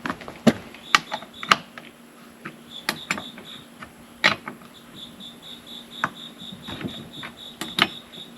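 Chain being tightened on a Stihl 500i chainsaw: irregular close clicks, ratcheting ticks and small metallic knocks in short clusters over a faint steady hum, with no talking.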